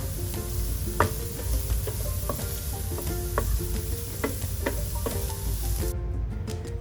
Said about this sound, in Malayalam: എന്നിട്ടൊന്ന് മിക്സ് ചെയ്ത് കൊടുക്കണം നിങ്ങൾ.